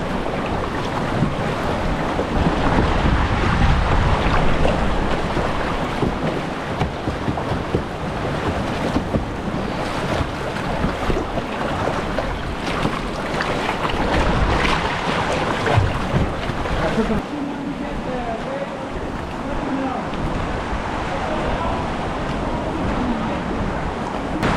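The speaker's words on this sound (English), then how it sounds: "Water is a lot rougher here" Rough sea water churns and slaps around a kayak near caves and cliffs off Lagos, Portugal, with waves, wind buffeting the microphone, and a constant loud wash throughout.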